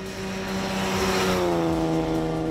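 A supercharged Alfa Romeo 6C Spider 2300 MM drives past close by, its engine a steady loud drone with a rising then falling pitch, no voices over it.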